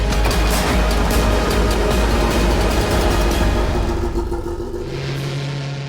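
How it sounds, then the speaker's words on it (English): LMP2 prototype race cars at Aragón in the European Le Mans Series start their engines and run, a loud continuous rumbling drone that thins out near the end as one low hum remains. "you can start the engine"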